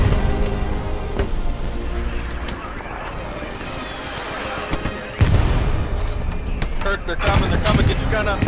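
Artillery fire in the World War II shooter Hell Let Loose: dense rumbling barrage with booming impacts and crackling debris, one heavy blast standing out midway, with voices shouting over it.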